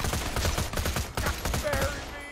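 An SMG in Borderlands 2 fires in rapid, loud bursts, a fast rattle of shots with short gaps between volleys.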